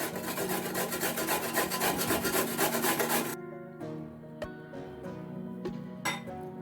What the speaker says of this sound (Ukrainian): Розпочнемо одну невелику морквину натираю до салатнички